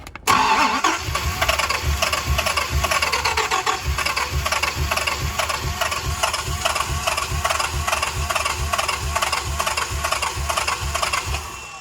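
A Dodge Viper engine cranks on the starter without catching, a loud, close, steady chugging rhythm of rapid compression pulses lasting over ten seconds, with no voices.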